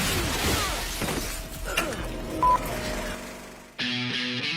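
Glass shattering from pressurized charges in a movie stunt, a crashing burst followed by tinkling debris, with an abrupt tonal sound cutting in near the end.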